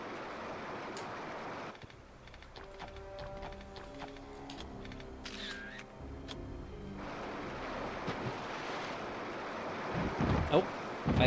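Rushing broadband roar of a waterfall in Indiana Jones and the Infernal Machine on the N64, fairly quiet at first, thinning out in the middle under tonal game sounds, then swelling louder toward the end.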